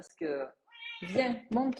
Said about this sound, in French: C'est un chat qui ne sait pas se décider.